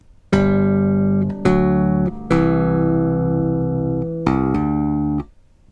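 An electric bass plays a slow lick of sustained notes and chords, with a few clear attacks and ringing decays spaced over a few seconds, close and solo with no talking.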